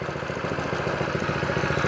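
A Harbor Freight Predator small engine idles on a go-kart, a steady close putter with a fast even rhythm and a quiet, unobtrusive exhaust note, running alone without talk.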